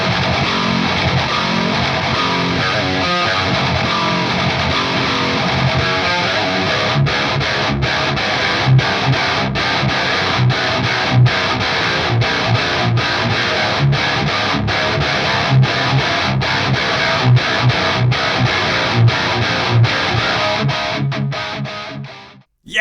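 A high-gain distorted electric guitar played through the Kazrog AmpCraft 1992 amp plugin, heard alone in a loud, dense wall of tone with chugging palm-muted rhythmic bursts that cut off sharply at the end.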